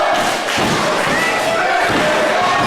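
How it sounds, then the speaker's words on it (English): Wrestler's head slamming against a table at a live wrestling event, a couple of heavy dull thuds rising out of a loud, constant crowd roar with commentary over it. "Hitting the back of your head against the table."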